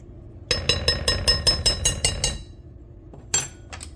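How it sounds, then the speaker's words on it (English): Bread dough ingredients are stirred together in a bowl: a quick series of about nine sharp, close clinks from the utensil striking the bowl, then a pause and a few more clinks, with no speech. "I'm going to stir this together"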